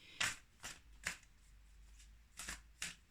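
Oracle cards shuffled for a card draw: five short, crisp riffling bursts spaced unevenly, close and fairly quiet, with no talking.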